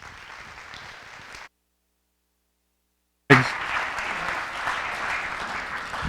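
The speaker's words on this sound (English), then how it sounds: "So give an introduction, a warm applause to Coach Al Kerns." An audience at a 2015 student leadership academy applauds to welcome a coach to the stage: steady, fairly loud clapping, a sudden break into silence for about two seconds, then a sharp renewed burst of clapping that carries on to the end.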